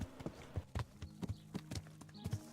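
Horse hooves clip-clop in the video game Kingdom Come: Deliverance, an even run of about a dozen hollow thuds at a steady walking pace, fairly quiet and with no talking.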